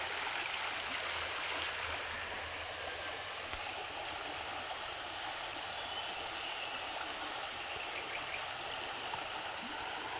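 A flowing mountain stream near San Martin, Prosperidad, Agusan, with a steady, close, even rush of water throughout and faint insect chirping above it.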